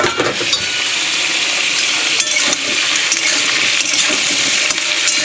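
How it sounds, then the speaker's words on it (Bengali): Vegetables frying loudly in an uncovered pan, a steady close sizzle with scattered crackles and a few sharp clicks as the cover comes off, with no voices. "চাপাটা খুলে দেখবো সবজিগুলো ভাজা হলো নাকি।"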